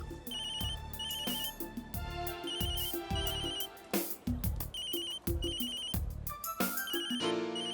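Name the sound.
telephone ringing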